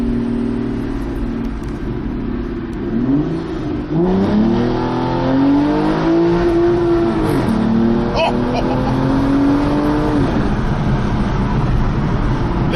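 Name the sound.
Aston Martin engine driving, heard through open windows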